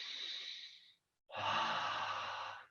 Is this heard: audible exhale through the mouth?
yes